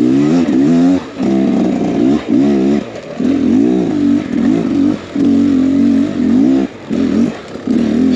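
A 2023 Beta X Trainer 300 dirt bike ridden at night, its engine revving up and down in repeated surges and brief throttle-offs, loud and close throughout.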